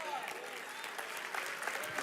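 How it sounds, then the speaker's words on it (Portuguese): A church congregation applauds faintly in a soft, distant patter of clapping, with a voice speaking over it. "Você pode aplaudir como um livre aplauso."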